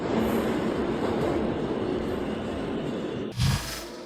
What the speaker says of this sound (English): Even the sound of the arriving train couldn't break the moment.